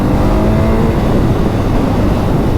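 A 2024 BMW R 12 nineT motorcycle with a boxer engine revving, loud and close, a continuous throaty engine roar that holds steady throughout.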